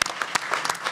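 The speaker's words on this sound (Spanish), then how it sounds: "un aplauso de verdad otra vez para ellos" A brief burst of audience clapping for quiz contestants, a few sharp, separate hand claps scattered over less than a second, close and fairly loud.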